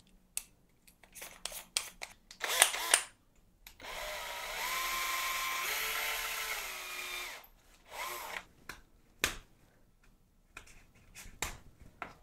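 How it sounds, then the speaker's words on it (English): A power drill whirs steadily for a few seconds while boring a hole into a miniature prop, its pitch dipping slightly under load, surrounded by sharp clicks and scraping handling noises before and after. "So I guess I drill a hole,"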